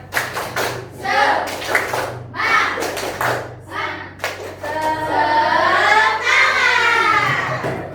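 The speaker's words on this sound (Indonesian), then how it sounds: "Coba bisa cek lagi, tepuk semangat" A classroom group does a spirit clap, several patterned rounds of crisp hand claps and thuds, followed by children chanting loudly together in a sustained, energetic shout.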